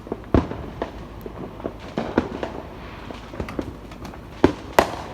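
Fourth of July fireworks going off outdoors in a rapid irregular series of pops and bangs, a few loud near bursts standing out among fainter distant crackles.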